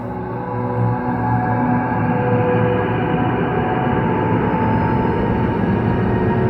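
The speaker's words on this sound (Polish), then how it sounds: "To, co teraz słyszycie, to dźwięki otoczenia, które mogą lecieć w tle na tych ruinach." A steady, droning ambient soundscape of layered sustained tones and a low rumble for ruins in Fortnite, continuous and unchanging throughout, with no talking.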